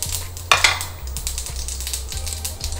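Mustard seeds and urad dal fried in hot oil in a pan, with a steady sizzle, light crackling pops and a spoon knocking and stirring against the metal at regular intervals.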